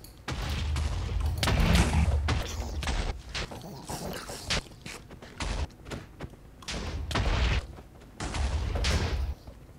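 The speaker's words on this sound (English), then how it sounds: "We've got explosions again," Explosions in the Minecraft MineZ server during a crowded event, a series of heavy booming blasts in irregular bursts with brief gaps between them and no talking over them.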